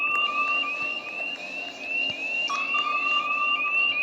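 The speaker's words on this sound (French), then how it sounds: "Il y a des alarmes." A repeating electronic alarm in a power station inside a video game, steady high pulsing tones cycling without pause over a low background hum, with no voices.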